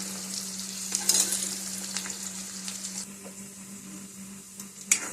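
Onions sizzle and fry steadily in hot oil in a pan for a Marathi brinjal and potato curry, with a constant close crackle and a few louder stirring scrapes, no talking.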